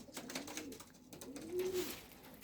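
Homing pigeons back at the loft give soft cooing calls, one clearer rising coo near the end, over a steady outdoor background.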